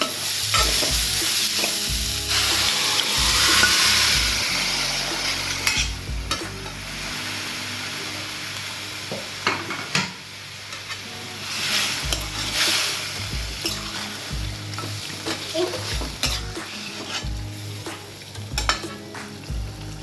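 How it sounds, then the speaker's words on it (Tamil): Chicken pieces sizzling and frying in a pan with ginger garlic paste, loud crackling hiss with repeated scraping and stirring of a spoon against the pan throughout, no voices. "இப்போ நம்ம சிக்கனை போட்டுடலாம்."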